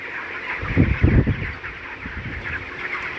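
Chickens restless from hot weather cluck nearby, a quick run of loud clucks followed by softer murmuring from the flock over a constant background hum.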